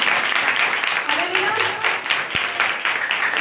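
Steady applause from an audience at a Christian ministry meeting in Pakistan, a continuous wash of clapping that holds at an even level throughout.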